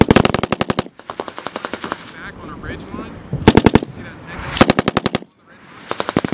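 A US military Mk 19 grenade launcher fires from a tripod in three loud, rapid bursts of evenly spaced heavy thumps, with quieter stretches of muffled background noise between them.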